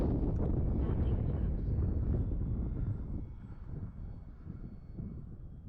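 A model warbird airplane flies at about three-quarter throttle: a steady, distant engine drone with wind buffeting the microphone, fading slightly toward the end.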